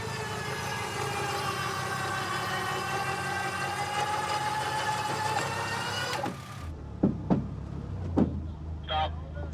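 An off-road vehicle's engine roars steadily with sustained revving while stuck on a trail, cutting out abruptly partway through, followed by a few sharp knocks and faint voices.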